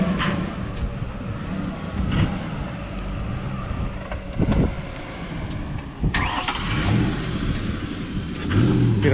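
A new car's engine revs while driving, with loud mid-range engine noise building and surging throughout, plus a few bumps and knocks; no speech over it.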